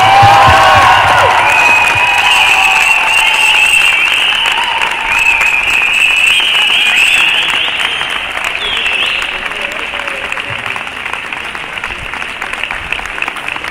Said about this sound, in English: Could we have a huge round of applause for the first graduating batch of NID AP?